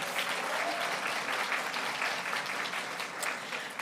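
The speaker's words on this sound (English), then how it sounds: "let's also give Ms. Morgan and our exceptional students a resounding round of applause" Audience at an award ceremony gives a sustained round of applause for students, steady dense clapping throughout with no break.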